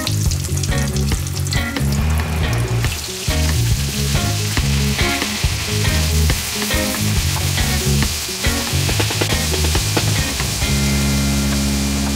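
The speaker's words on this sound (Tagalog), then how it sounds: "Pwede na natin iprito." Chicken pieces, prepared like crispy Jollibee Chickenjoy, fry in hot oil with a loud, dense, continuous crackle and hiss close by, and no one speaks.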